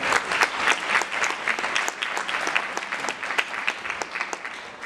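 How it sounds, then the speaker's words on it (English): A large audience applauds steadily at a 2018 CNC conference keynote, with dense, even clapping that stays loud and constant throughout and no voices above it. "So give yourself a big round of applause and congratulations to yourself."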